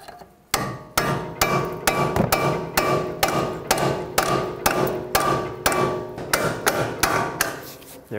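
Rapid, steady hammering on bolts in a Chrysler Sebring steering knuckle during front CV axle work, roughly twenty close, ringing metallic strikes in an even rhythm with no talk.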